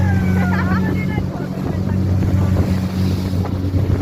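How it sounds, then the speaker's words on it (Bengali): A speedboat races across the water, its engine a steady low drone beneath heavy wind buffeting and splashing waves, with voices talking over the noise. "আমরা এখন স্পিড বোট দিয়ে ভ্রমণ করছি"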